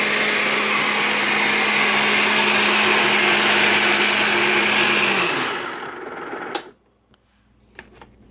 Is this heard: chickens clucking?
no